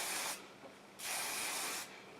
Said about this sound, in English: And I just spray this all in my hair.